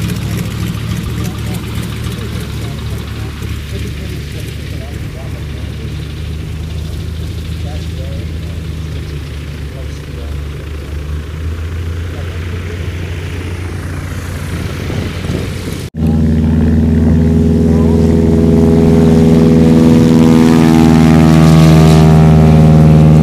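A steady, droning Stearman biplane engine hums throughout, swelling louder and richer near the end, with voices talking over it.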